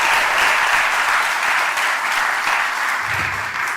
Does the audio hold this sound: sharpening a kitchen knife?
no